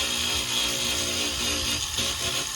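Power grinder working old fiberglass off a damaged semi truck body during a repair, a continuous harsh abrasive whir held steady and loud at close range with no talk.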